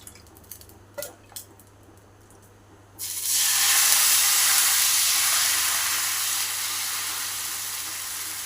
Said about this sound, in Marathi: आपण आता नीट डोसा टाकत आहोत.